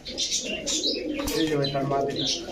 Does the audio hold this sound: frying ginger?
no